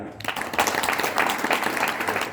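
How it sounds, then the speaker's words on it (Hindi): An audience at a kavi sammelan poetry gathering in Garwar, Ballia claps in a short, dense burst of applause that starts after a brief pause and carries on throughout, fairly loud and close. "एक बार चाहूँगा अभिनंदन की तालियां।"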